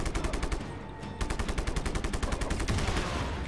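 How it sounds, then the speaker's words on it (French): Rapid automatic gunfire rattles through Just Cause 3 gameplay, dense repeated shots in quick bursts with a brief lull near the start, loud and continuous. "c'est qui me tire dessus?"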